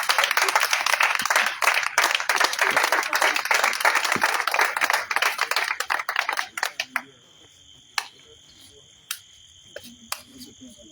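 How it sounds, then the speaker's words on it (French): A prayer meeting congregation applauds in dense, rapid clapping for about seven seconds, then the clapping thins to a few isolated claps over a quieter background with a steady high insect-like chirp. "Nous t'applaudissons, on dit acclamer Jésus."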